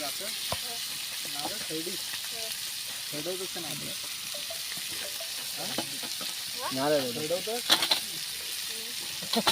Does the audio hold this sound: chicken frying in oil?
yes